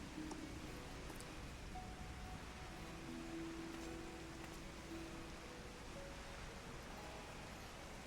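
Steady soft rain in Final Fantasy XIV hisses continuously at low volume, a constant wash of falling drops with faint tonal hums beneath.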